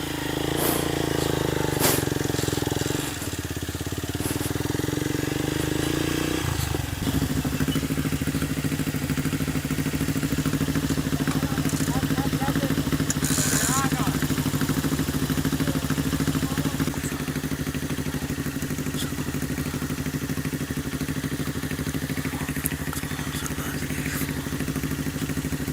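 A motorcycle engine drones on steadily while riding over sandy ground, with a deep hum that shifts in pitch partway through and occasional clatter and rattles on top.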